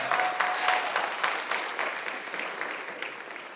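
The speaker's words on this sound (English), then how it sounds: "Can we clap our hands one more time for the graduates?" An audience at a Foothills Charter High School graduation ceremony applauds the graduates with steady, dense clapping that fades gradually over a few seconds, with no talking heard.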